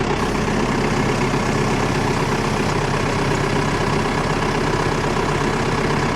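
A tractor fitted with pallet forks runs while unloading a load of tongue-and-groove pine, its engine a loud, close, continuous low drone that holds steady throughout with no talking.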